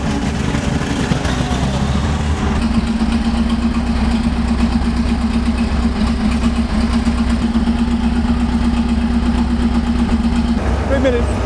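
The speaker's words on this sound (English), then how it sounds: "Now the engine would need to be run for about 3 minutes whilst the tank was static." A Tiger tank engine idles loudly and steadily with a deep rumbling drone, close by, holding a constant pitch throughout while the tank sits static.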